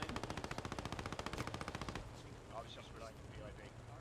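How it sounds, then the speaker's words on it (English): Machine gun fire in the Post Scriptum video game, a rapid, loud, evenly spaced burst of shots lasting about two seconds before it cuts off into ambient battlefield noise. "Machine guns coming through."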